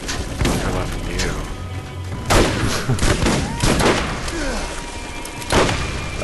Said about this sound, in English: I'm loving this shotgun.